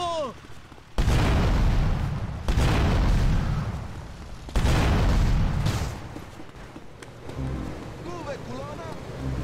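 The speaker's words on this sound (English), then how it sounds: "Here, have a grenade." Three heavy, booming grenade blasts from GTA Vice City Stories roll out one after another, each a loud, deep burst that fades slowly, with quieter game sounds and a voice around the edges.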